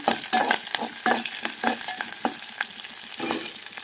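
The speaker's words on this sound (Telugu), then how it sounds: "బాగా ఫ్రై చేసేసుకోవాలి" Curry leaves fried in a pan for a lentil snack, a loud close sizzle with quick rhythmic scrapes and clatters of stirring throughout, no voices.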